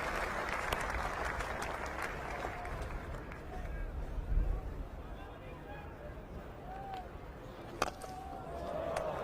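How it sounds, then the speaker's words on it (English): A cricket crowd at Trent Bridge applauds Sachin Tendulkar's Test century with sustained, dense clapping and crowd murmur filling the ground, while a commentator talks over it. "Warmly applauded by this Trent-Bridge crowd"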